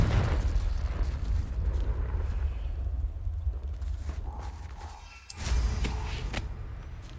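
A Confringo fire spell explodes in the Hogwarts Legacy video game: a sudden loud blast cuts through a steady low rumble near the end, followed by crackling bursts.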